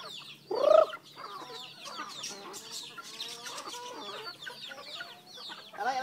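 A Black Giant chicken in a backyard poultry yard gives a loud, close squawk near the start, then keeps up softer clucking and chatter with other fowl through the rest.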